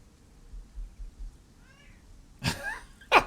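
A pet cat meows twice, a drawn-out call followed by a shorter one, close and clear over a quiet room with faint low thumps beforehand.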